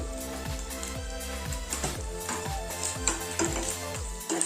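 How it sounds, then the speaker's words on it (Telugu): Thin slices of raw coconut frying in oil in a kadai for coconut chutney, a close crackling sizzle with a dense run of rhythmic spatula scrapes and pops, no speech. "ఈ పచ్చి కొబ్బరిని వేసుకొని వేయించుకున్నాను"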